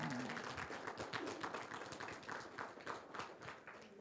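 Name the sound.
applause for the Holy Spirit in church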